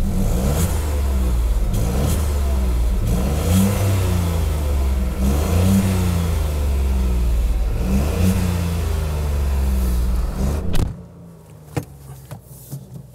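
A 90 hp Dacia Sandero pulls away, its engine revving loudly through repeated rising surges as it accelerates up through the gears, then dropping off abruptly to quiet cabin sounds near the end.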